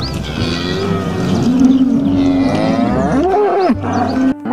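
Cattle mooing loudly and close, with long drawn-out low calls, one rising and falling moo near the end.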